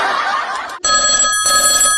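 A telephone rings with a bright electronic trill, sounding in a few close, loud bursts separated by short gaps, with no voices over it.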